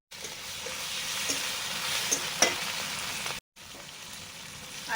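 Chopped tomato, turmeric and chili hit hot oil with fried onion in a pan, setting off a loud, steady sizzle with occasional sharper pops and a brief cut before the frying carries on.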